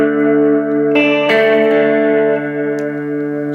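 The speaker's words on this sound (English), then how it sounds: "So you've got a very dark reverb." Guitar through a reverb pedal with the tone control turned down, giving a dark, muffled wash. A sustained chord rings and a second strum joins it, and the tail decays with little top end and no talking.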